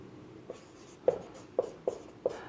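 Handwriting on a surface during a Hindi literature lesson, with a few distinct scratchy pen strokes tapping out in an irregular rhythm, close and fairly soft, and no talk over them.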